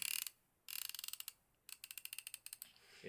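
Crisp clicks from a Snap-on ratcheting screwdriver in three quick bursts separated by short pauses, close and fairly quiet.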